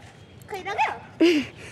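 Two short, close dog vocalizations in quick succession, a yelping bark followed by a whining yip, against a quiet background.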